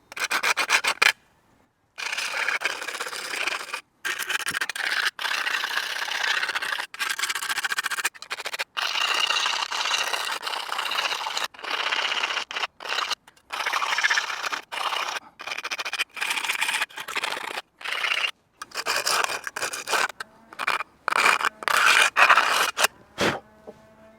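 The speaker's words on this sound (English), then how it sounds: "I try to sand these sharp edges with a sandstone a little bit." Sharp edges of a cut tin soda can being sanded with a sandstone: repeated rasping strokes, close and fairly loud, with brief pauses between bursts.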